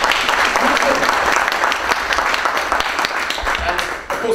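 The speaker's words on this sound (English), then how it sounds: "So I'd like to clap them. Would you?" An audience at a Collabora talk by a speaker applauds its customers with steady, loud clapping filling the room throughout, easing off at the very end.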